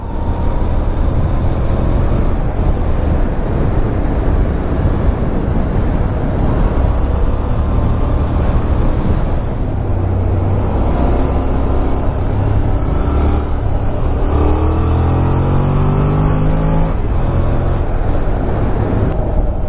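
Honda NC750 motorcycle engine while riding, a quiet stock-exhaust twin, heard as a continuous loud rumble blended with road and wind roar, with a rising and falling engine tone around the middle and no talking.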